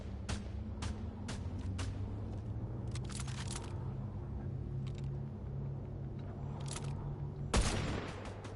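Sniper rifle shots in a video game ring out as a series of sharp, spaced cracks over a low rumbling background, with one heavier blast near the end, all fairly faint.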